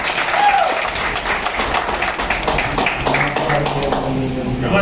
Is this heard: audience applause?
yes